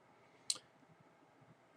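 A single sharp mouse click on a button, brief and crisp over a quiet low background hum, with no one speaking.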